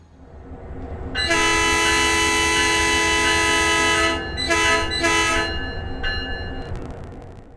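Metrolink train horn from the San Bernardino line in Train Sim World 5, a loud sustained multi-tone chord blowing for about three seconds, then two short blasts and a fainter closing toot over a low rumbling engine.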